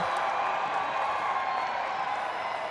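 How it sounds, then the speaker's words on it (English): A dense, steady crowd roar of cheering and whooping at an outdoor ultimate frisbee match, loud and continuous throughout with no break. "he hauls it in, and the crowd goes wild"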